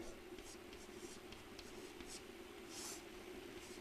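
A pen writes out a math solution by hand, producing faint, intermittent scratching strokes over a steady hiss.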